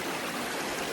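Small river flowing along an overgrown shady trail, a dense, continuous rushing and gurgling wash that stays steady and fairly loud throughout the short moment.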